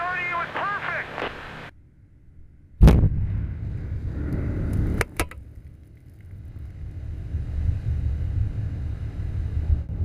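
A bomb hits with a sudden, heavy blast that rolls into a long rumble. A second sharp pair of bangs follows, and low roaring noise continues afterward. A voice speaks briefly just before the first impact.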